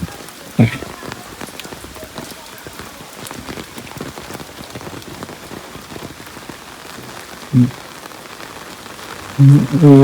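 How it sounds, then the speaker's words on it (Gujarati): Heavy rain pours down in a dense, steady hiss of drops striking the ground and surfaces, with a few brief louder bumps and a short voice near the end. "હજુ ચાલુ જ છે વરસાદ તો ધમધોકાર"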